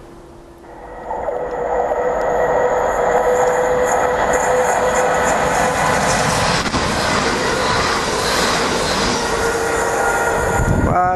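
A Class 350 electric multiple unit passes close by at Long Buckby, a loud steady roar of rail wheels and traction that swells quickly and holds throughout, with faint wheel squeal near the end.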